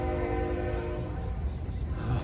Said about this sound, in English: There's a train whistle in the background there.